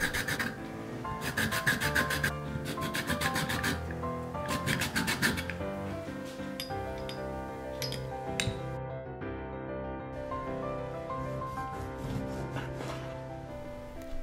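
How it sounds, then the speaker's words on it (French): A lime zested into a bowl, bursts of scratchy rasping strokes repeating in the first half, followed by a few light clinks and quieter scraping, close and clear with no talk. "Dans un bol, on zeste un citron vert."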